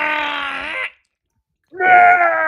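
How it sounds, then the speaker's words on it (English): A snake-dying sound effect plays as two loud, drawn-out wailing moans, the first fading out before a second of silence and the second rising in again, with no talk. "Snake dying.mp3."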